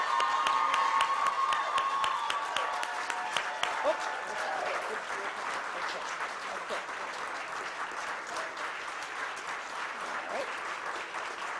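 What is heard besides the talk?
audience applause at ceremony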